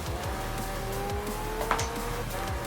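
A racing car engine in the video game Forza Horizon, a close, steady engine drone with a brief tire squeal near the middle.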